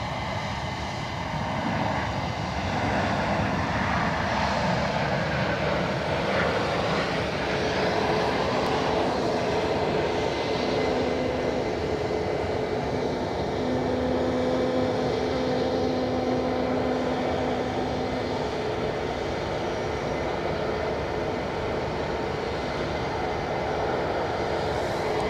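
A Ryanair airliner rolls out after landing at Edinburgh Airport, a sustained loud roar of engines and reverse thrust with a whining tone, steady throughout and free of talk.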